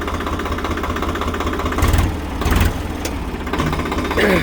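A Swaraj 735 XT 4WD tractor's diesel engine idles steadily nearby with a rhythmic knocking chug, briefly swelling louder a couple of times.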